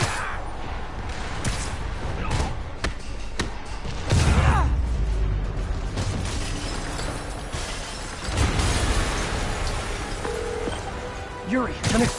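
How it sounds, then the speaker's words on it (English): Explosion in a Spider-Man video game, a heavy low boom bursting out mid-scene with crashing, shattering debris, surrounded by game music, effects and character voices. "Yuri, an explosion just..."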